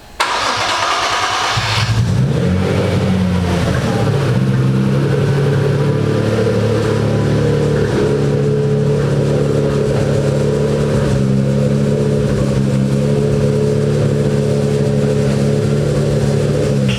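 An Infiniti Q50/Q60 engine with a newly fitted clutch cranks and fires after a quiet moment, then settles into a loud, steady idle with light revving, close by and with no talk.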